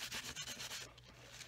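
Dry tissue rubbed firmly over vellum to lift gilding leaf makes a faint, rhythmic scratchy rubbing of quick strokes, quiet and close, then softer brushing.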